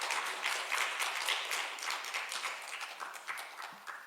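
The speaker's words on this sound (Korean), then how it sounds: "우리 박수로 환영하겠습니다." Congregation applause welcoming a visitor at a Korean church Sunday service in Dallas, a moderate burst of many hands clapping with audible individual claps that gradually thins out.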